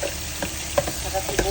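A kilo of ginger is stirred and fried in a pan with garlic, giving a steady close sizzle broken by a few scraping stir strokes.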